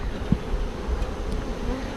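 Honeybees from a package being installed into a hive buzz close to the microphone, a steady low hum with a few louder passes of individual bees.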